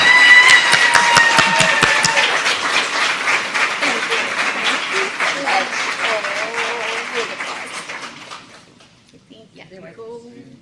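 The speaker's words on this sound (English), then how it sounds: "Can you please help me give Nancy a big round of applause to honor her many wonderful years of dedicat" At a school district board meeting, a crowd applauds with steady, dense clapping that gradually thins and fades out, a few scattered claps lingering at the end.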